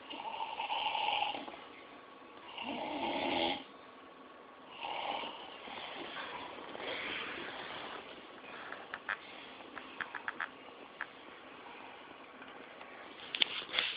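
A person snores in drawn-out, rasping breaths, one long snore after another with pauses, close and moderately loud, later mixed with faint clicks and patter.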